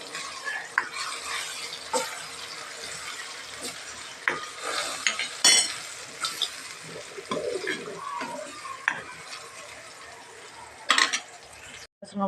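Tomatoes with turmeric cook in a pan on the stove and are stirred now and then, giving a low, steady sizzle broken by scraping and clinks of a spoon on the pan.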